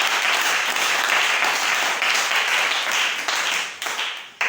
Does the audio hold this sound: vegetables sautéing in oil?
no